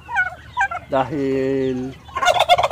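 Pet turkeys kept through the rainy season gobble close by in a loud burst and a sustained warbling call. Someone speaks in Filipino before and after the calls.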